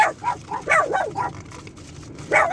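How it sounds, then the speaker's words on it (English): Dogs bark at people walking past during a casual indoor lunch, a few short yelping barks scattered over about two seconds with a louder burst at the end, moderately close. "Dog bark fest."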